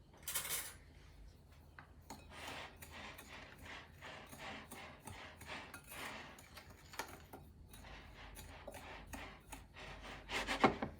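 Dry ingredients for lemon squares, including baking powder, being mixed in a bowl, with rapid rhythmic scraping and clinking strokes that are quiet and close.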